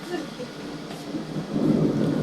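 Thunder rumbles during a nighttime rainstorm in a Philippine city, a low roll that swells louder toward the end over a steady wash of rain.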